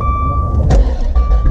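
A Dodge Viper ACR Extreme V10 engine cranks and fires up, with a sharp burst at the start, then a deep rumbling idle, close and loud, over steady chime tones from the cabin.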